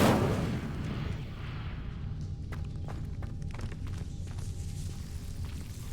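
A fiery Incendio spell bursts in Hogwarts Legacy near a dark hidden corridor entrance: a loud broadband whoosh at the start settles into a low rumbling roar with scattered crackles and thumps, no voices.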